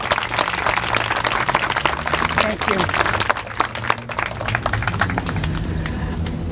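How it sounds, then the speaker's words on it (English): Audience applause at a Day of Remembrance for murdered victims, a dense sustained clapping from a crowd filling the room, with a voice speaking briefly over it. "Can we give a round of applause to the readers,"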